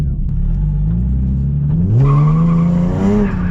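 A Nissan 370Z engine revs hard under heavy throttle, a loud, close, continuous roar whose pitch climbs steeply partway through and holds high, with tire noise mixed in.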